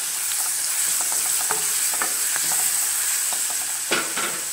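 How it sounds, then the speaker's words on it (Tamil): Onions with ginger garlic paste sizzle steadily in hot oil in a pan, a constant close frying hiss broken by scattered scraping stirs of a spoon against the metal. "வெங்காயம் வதங்கிருச்சு. இப்போ இஞ்சி பூண்டு விழுது போட்டுருங்க."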